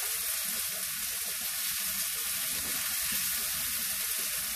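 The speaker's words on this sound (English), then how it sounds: "Lagay natin yung ating ham. para lang tayo nagpa-fry." Sliced ham frying in a pan, a dense, even sizzle close by that holds steady and loud throughout.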